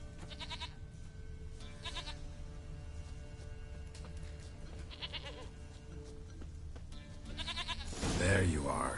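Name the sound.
goat bleating in the video game Witcher 3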